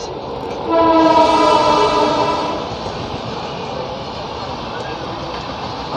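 Push-pull MEMU passenger train on the Warangal to Secunderabad route near Bibinagar sounds one loud, sustained horn blast of a little over a second over the continuous rolling rumble of the moving train.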